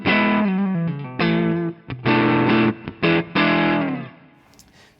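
An electric guitar played through a TC Electronic Booster+ line driver and distortion pedal rings out in loud, thick, overdriven chords and phrases, with a few short gaps and a decaying tail at the end.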